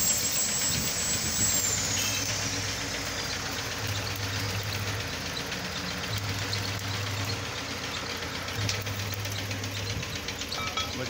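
A new Chinese-made machine for orchard work runs steadily at idle, its low mechanical drone and faint knocking continuing throughout with a periodic low hum rising and falling in the background.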